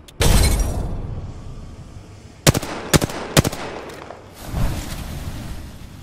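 Gunfire in Apex Legends: a few sharp, loud shots cracking out one by one at a steady pace, set between stretches of whooshing, rumbling in-game noise.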